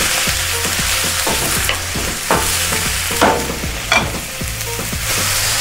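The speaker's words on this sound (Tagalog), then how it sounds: "Ligyan lang natin to ng magandang halo, Boy George." Beef and mushrooms stirred in a frying pan, a loud, dense sizzle with rhythmic scraping and spatula knocks repeating every second or so, close up with a faint low hum beneath and no speech.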